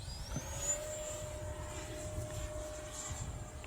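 A Viper Jet electric ducted-fan RC model jet passing overhead, a faint distant whine with a rising high tone that holds steady over low background rumble.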